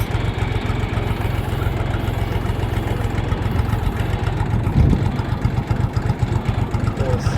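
A Chinese Kentavr mini tractor engine chugs steadily at close range, a rough, even low-pitched running sound throughout.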